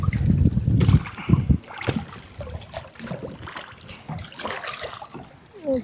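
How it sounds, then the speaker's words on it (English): A small boat being pulled out across shallow water in Hillsborough Bay, with dull bumping and sloshing, some wind noise on the microphone, and soft trickling water. "So I'm just pulling the boat out just a smidge more"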